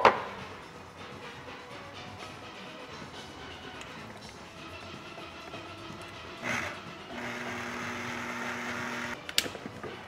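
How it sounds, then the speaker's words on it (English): A food processor blitzes shrimp and vegetables into a fine paste for shrimp bisque. Its motor gives a steady, fairly loud whirring hum for about two seconds near the end, after a stretch of rustling kitchen noise, with no talking. "I'm going to take it over to my food processor"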